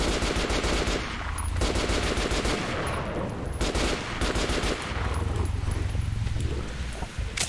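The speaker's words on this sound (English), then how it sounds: "as you can hear, somebody is obviously shooting them" Sustained automatic gunfire in the shooter game Metro Last Light Redux, rapid bursts rattling loudly and almost without pause through the whole stretch, with overlapping shots and no voices.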